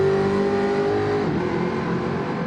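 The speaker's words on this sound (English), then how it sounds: "Oh, that jag sounds good." A Jaguar race car in a racing video game revs steadily with a loud, continuous mid-pitched engine drone that holds one tone, then shifts to a rougher, busier note partway through, with no talking over it.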